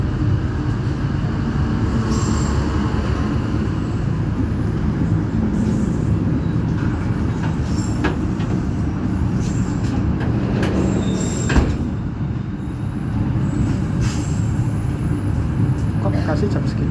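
The KA Jayabaya economy train pulls out of Bekasi station with a steady rumble of wheels on track. Occasional squeals and clanks rise through the constant loud interior drone, which runs unbroken throughout.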